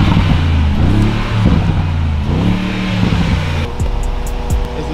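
A car engine revs loudly and close by in a series of repeated rising and falling blips, each swell lasting about a second, ending in a sharper throttle burst.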